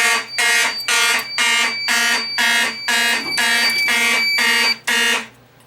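Building fire alarm system going off during a test, a loud horn blaring in steady repeated bursts with short gaps, nearby and continuous with no voices.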